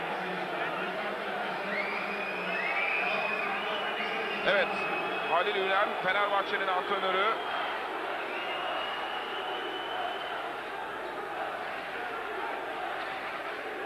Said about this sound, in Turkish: Olumsuz tezahürat var.